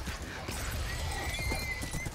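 Horses in the video game Minecraft Story Mode whinny and gallop away, a high neigh over rapid hoof clip-clops, brief and fairly close.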